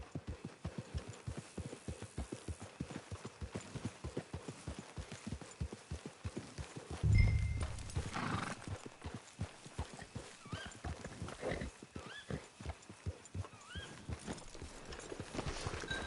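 A horse in the video game Red Dead Redemption Online trots with a quick, steady clip-clop of hooves, breaking briefly into a loud neigh midway before the rhythmic hoofbeats carry on.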